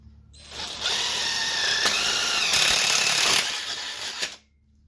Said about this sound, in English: I'm gonna drill some holes here.